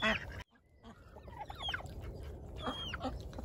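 Ducks bathing in warm water on a freezing winter day give a few scattered, nearby quacks and honking calls over a steady splashy background, with no talking.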